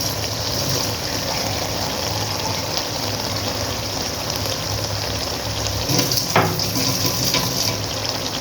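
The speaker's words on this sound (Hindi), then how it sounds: "मैं इसके अंदर तकरीबन ग्रेवी के लिए 1/2 गिलास में पानी का डालती हूँ इसके अंदर।" Water poured from a half glass into a pan of frying masala for egg, potato and pea korma gravy, a steady close splashing pour with a brief louder surge partway through, no talk.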